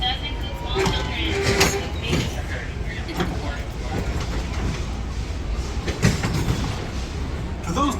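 A Disneyland Railroad train pulls away from the station with a low rumble, creaks and rattling car noise, plus a brief metallic clank midway, while people chatter nearby.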